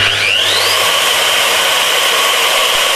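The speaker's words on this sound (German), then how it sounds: "Und die Maschine bohrt von alleine." A FEIN KBM50 magnetic core drill runs steadily for the whole stretch, a loud continuous machine whine with a rising tone at the start and no voices.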